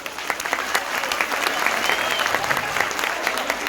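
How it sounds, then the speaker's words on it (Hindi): A crowd at a women's conference claps in dense, sustained applause, many hands at once keeping up a steady patter for the whole stretch. "अलका लांबा जी के लिए जोरदार तालियां करो।"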